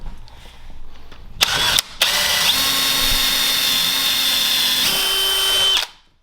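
A power drill bores pocket holes into wood through a pocket hole jig, giving a short burst followed by a long, loud, steady whine whose pitch shifts slightly before it winds down.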